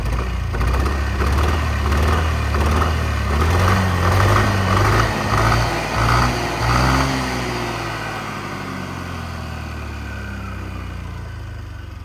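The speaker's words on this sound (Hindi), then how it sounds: "सो इसका एग्जॉस्ट नोट सुनाते हैं आप लोगों को एक बारी।" Yamaha Aerox 155 BS7 scooter idling just after starting, a steady low exhaust burble with a slight rise in revs midway before settling back to a softer, even idle, heard alone and fairly close.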